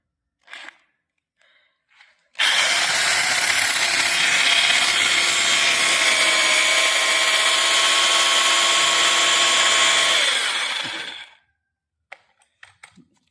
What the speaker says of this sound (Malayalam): ഇനി ഈ ഒരു ബ്ലോക്ക് ഞാൻ ഡ്രിൽ ചെയ്യാൻ പോവുകയാണ്